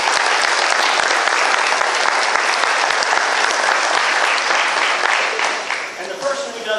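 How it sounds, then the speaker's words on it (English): Sustained applause from an audience at a 2023 American Horological Society Distinguished Goldbugs gathering, steady and dense for several seconds before thinning slightly near the end. "Let's give them a round of applause."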